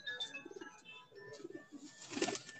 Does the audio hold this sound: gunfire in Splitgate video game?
no